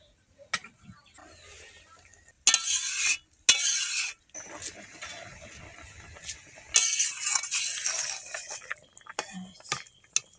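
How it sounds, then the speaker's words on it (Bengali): Boiled taro being mashed in a vessel, heard as intermittent scraping and clinking bursts with pauses between, close up, alongside faint background sounds. "কচুরি সেদ্ধ হয়ে গেছে, ঘাঁটি কচু"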